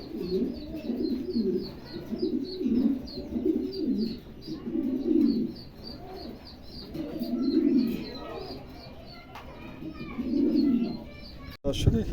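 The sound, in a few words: tiger pigeons cooing at a sale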